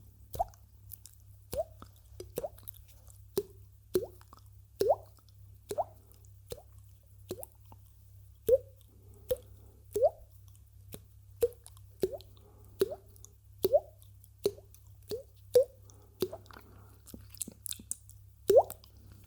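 A run of wet mouth pops mimics falling water droplets, close and quiet, about a dozen soft clicks spaced irregularly over a low steady hum, with no talking.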